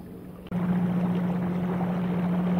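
A small fishing boat's outboard motor starts up on a lake, a steady droning hum kicking in abruptly after a brief quiet moment and running on evenly with wind noise.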